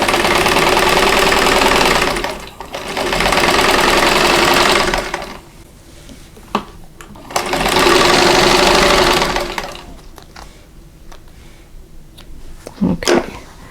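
Sewing machine chain piecing quilt block pieces, two bursts of fast, even mechanical stitching of a few seconds each, separated by quieter pauses with small clicks and handling noises.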